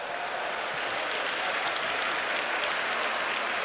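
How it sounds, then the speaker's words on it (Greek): Loud, steady applause from Yugoslav fans fills a basketball arena during a Yugoslavia versus Argentina World Cup quarterfinal, a dense continuous roar of clapping with no pauses. "Χειροκροτήματα από τους Ιουγκοσλάβους φιλάθλους."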